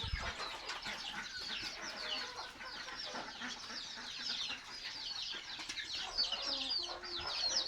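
A flock of village chickens cluck and chatter at a rural home in the early morning, a busy overlapping din of clucks with occasional wing flaps and sharper calls.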